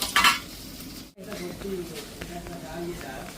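Onion, green chilli and curry leaves fry in a pan with a steady sizzle, stirring and the clink of a utensil against the metal, and low voices sometimes sound in the background.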